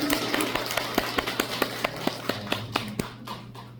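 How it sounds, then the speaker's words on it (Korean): A small audience at an intimate live music show claps in a steady rhythm, about three distinct claps per second, close and moderately loud, fading out at the end. "박수 한번 주세요"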